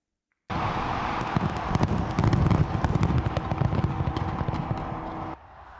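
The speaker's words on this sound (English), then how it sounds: "Australia's signature fireworks over Sydney Harbour Bridge helped get the New Year's celebrations underway with a bang" New Year fireworks over Sydney Harbour Bridge burst continuously, a dense, loud crackle of pops and booms that runs for several seconds with no voices.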